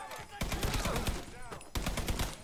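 Rapid bursts of gunfire from the video game Mafia 3 crack out in quick volleys, sharp repeated shots with a brief pause midway, fairly quiet overall.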